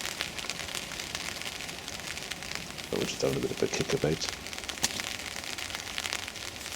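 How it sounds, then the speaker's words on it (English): Light rain patters steadily on a woodland shooting hide, a soft continuous crackle while someone speaks quietly partway through. "Getting the rain pattering away on the hide."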